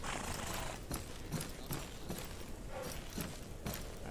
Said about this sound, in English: I'm going to get my horse